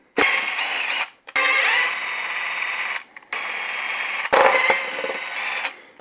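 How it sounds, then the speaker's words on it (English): A power tool spins screws out of the top plate of a Losi 5ive TE 3.0 RC car in loud close bursts, three whirring runs with short pauses between them and no talking. "The manual says take off the 6 top screws out of the top plate."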